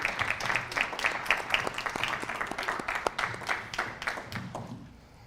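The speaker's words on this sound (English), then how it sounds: "let's just give them another round of applause" An audience at a business event in Kansas City gives a moderate round of applause, the claps uneven and fairly close, with faint voices underneath before it fades.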